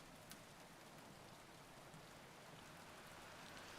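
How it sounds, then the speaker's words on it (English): Steady rain falls in the video game If Found..., a dense, even hiss of drops that holds constant throughout at a soft, distant level with no voices. "More rain."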